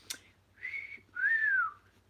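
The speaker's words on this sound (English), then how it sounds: "I can't get my whistle right today." A person whistles two short, wavering notes, the second longer with a gentle rising-then-falling pitch bend, close and clear after a small click, in an otherwise quiet room.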